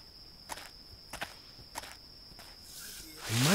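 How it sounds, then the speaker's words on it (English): Footsteps in the video game The Vortex Gateway fall at a slow, steady pace, four soft steps over a faint steady tone, before a rising rush of noise. "I can hear footsteps."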